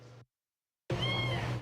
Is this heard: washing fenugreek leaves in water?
no